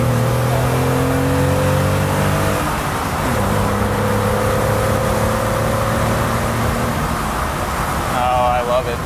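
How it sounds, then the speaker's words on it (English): Engine of a 1974 BMW 2002 accelerating hard from inside the car, a loud droning note climbing in pitch, dipping at a shift, then rising again as the carburetor secondaries open, with a voice briefly near the end. "So when you hear that, it's the secondaries opening up?"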